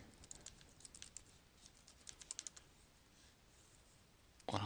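Keys clicking in a few short bursts of typing on a computer keyboard, entering a search into Google Chrome, faint and close with quiet gaps between the bursts.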